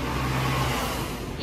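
An air-conditioned city bus passes along a road with a central bus stop in Mashhad, Iran, giving a loud, close, continuous engine roar with a low drone that fills the brief moment.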